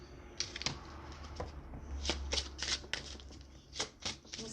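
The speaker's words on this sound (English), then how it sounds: "We're going to pull some" Tarot cards shuffled by hand at close range, a quick series of soft riffling bursts and slaps over a low background hum, with no talk.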